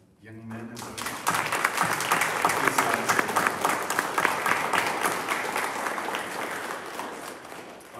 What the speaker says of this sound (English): So we do it with an applause of these young men.